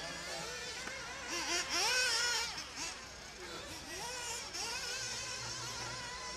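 Several 1/8-scale off-road RC cars race on a dirt track, their small engines whining and rising and falling in pitch as they accelerate and brake, with a commentator talking over them.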